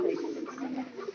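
A recovering pigeon gives a brief, soft, low coo, close by and faint, with no other sounds around it.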